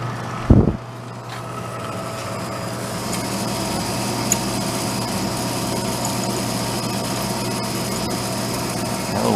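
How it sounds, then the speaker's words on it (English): A fan spinning inside an old junked Harmon pellet stove, giving a steady, fairly loud whirring hum with a constant low drone that runs nearly unbroken, after a brief knock near the start. "Fan spinning on the end."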